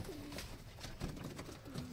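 An aggressive pet pigeon near its young chicks gives soft, repeated low coos, close and alone without talk over a faint background.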